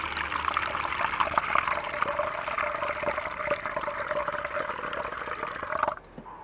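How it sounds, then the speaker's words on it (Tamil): Water pours steadily into a metal cooking pot, a rushing stream with a rising ringing tone, stopping abruptly near the end. "இப்போ நாங்கள் வந்து ஒரு சட்டிக்கு தண்ணி எடுத்துக்கொள்ளுவோம்"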